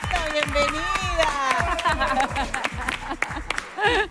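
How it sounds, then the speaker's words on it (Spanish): A studio audience claps and cheers to welcome a ballet dancer of the Ballet Nacional del Sodre onto a television show, a dense steady applause with a rhythmic beat, while voices talk and music plays over it. "aplauso para recibir a Mariana Enrichetto"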